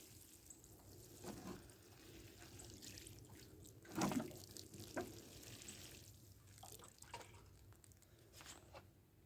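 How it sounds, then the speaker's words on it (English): Water poured onto the soil of a potted blueberry plant, with soft splashing and squishy trickles, one brief louder splash midway, faint and close over quiet background. "I just want to put in a little bit of water and water that in"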